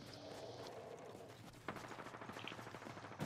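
Rapid gunfire bursts from the battle royale video game Apex Legends, played on PS5, crackling at moderate distance in a dense continuous rattle with a sharper onset midway.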